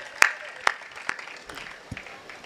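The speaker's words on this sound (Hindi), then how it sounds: "यदि आप सबकी आज्ञा हो तो एक बार ताली बजाकर" A few separate hand claps from an audience at a poetry recitation, three sharp claps spaced about half a second apart, then softer scattered claps trailing off, fairly near.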